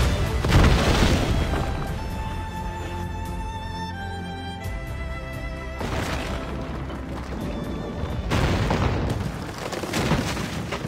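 Ship cannons firing from a sailing warship in the video game Assassin's Creed Rogue, a series of loud booming blasts with crashing impacts over continuous game sound and music.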